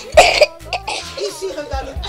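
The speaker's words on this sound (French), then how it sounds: "Ah, essaie un peu de tousser là dans le monde." A child gives a deliberate cough on request, one sharp close burst followed by softer throat sounds and brief vocal noises.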